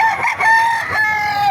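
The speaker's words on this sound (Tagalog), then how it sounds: "Papakita ko sa inyo mga manok dito" A rooster crows loudly and close at an outdoor chicken market in Calumpit, Bulacan, one drawn-out call with a clear harmonic tone lasting over a second, with faint crowd murmur around it.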